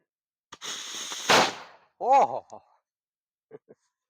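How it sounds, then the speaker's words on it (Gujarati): A small 555-brand Diwali firecracker hisses briefly, then gives a single sharp close burst. A voice reacts just afterward, followed by a couple of faint clicks. "આ એકદમ નાનો એવો ફટાકડો છે"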